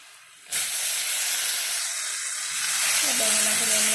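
Brinjal pieces drop into hot oil seasoned with turmeric and burst into a loud, steady sizzle that swells slightly toward the end, with a faint tonal sound near the close.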